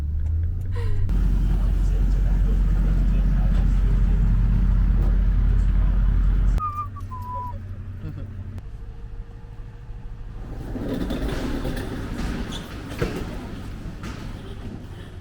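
A Ford Foxbody with a 410 small-block Ford engine and TKO gearbox rumbles loudly and deeply, then drops to a lower, rougher drone before building again, with voices talking over it.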